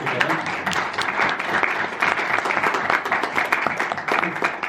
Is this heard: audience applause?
yes